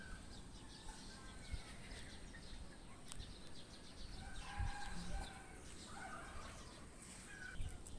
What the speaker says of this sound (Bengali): এখন দেখি আমার মুরগির বড় খামারের কি অবস্থা।